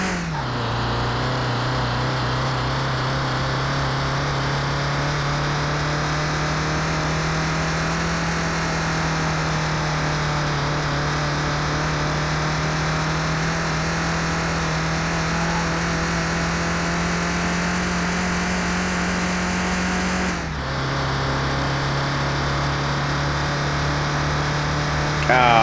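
Fiat Panda engine in the Car Mechanic 2021 racing game revs loudly and steadily at high pitch, holding a constant drone for about twenty seconds, then dips sharply as the gear shifts and settles into a lower tone.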